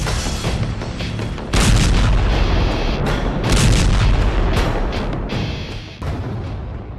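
Loud, close booming explosions and artillery-like blasts during bombardment in Kyiv, Ukraine, several heavy impacts following one another with rumbling between them.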